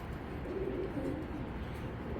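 Racing pigeon hen cooing, soft low coos repeated over a quiet background, faint and close.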